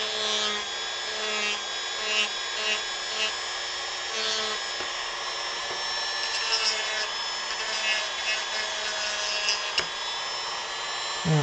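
A power tool sands a carved prop sniper rifle, giving a steady, fairly quiet whirring hum with scratchy rubbing texture and small irregular bumps throughout, with no voices.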